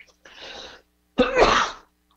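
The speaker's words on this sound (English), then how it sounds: "I'm going to sneeze." A man lecturing at a Buddhist monastery sneezes straight into the microphone: a short breathy intake followed by one loud, close, explosive sneeze, with no talking during it.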